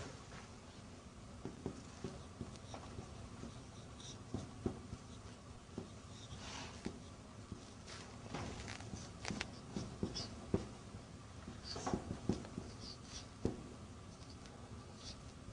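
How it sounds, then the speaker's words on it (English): Pen or marker writing Arabic during a lesson, producing intermittent faint scratchy strokes and taps at close range over a quiet room, with no talking. "okay, I'm writing it, brother."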